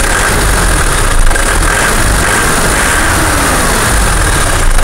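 A Honda CB motorcycle idles after five months of running on cooking oil in place of engine oil, a loud, close, steady engine drone with an even low rumble and no voices.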